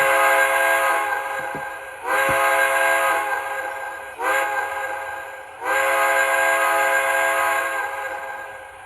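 An MTH Railking Blue Comet model train sounds its crossing horn in four repeated blasts, long-short-short-long, bright and buzzy, close up with faint clicks between.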